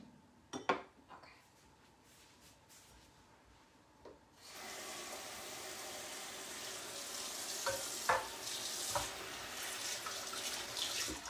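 Pizza soup being stirred in a cooking pot, a continuous wet sizzling, sloshing texture with occasional spoon clinks against the pot, close and moderately loud.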